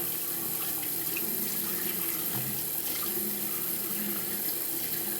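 Tap water running steadily into a sink while face cleanser is rinsed off, a constant close hiss and splash with small irregular splashes from hands, no talking.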